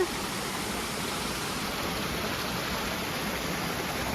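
Steady, loud rush of a waterfall on a trekking trail near Rishikesh, a dense broadband roar that holds constant throughout with no voices.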